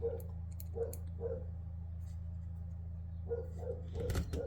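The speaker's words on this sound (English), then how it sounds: "there's a barking dog outside" A dog barks outside, faint and distant. Short barks come in small clusters with pauses between them, under a low indoor hum.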